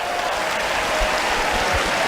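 A tennis crowd at the Australian Open applauds steadily, dense clapping filling the arena from start to finish at a fairly loud, even level, with no voices standing out.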